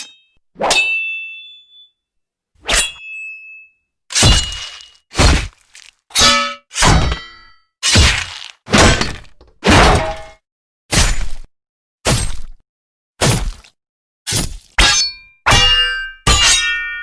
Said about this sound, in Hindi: तलवार आपस में टकराते हैं तो उसकी आवाज को कहते हैं क्लैंग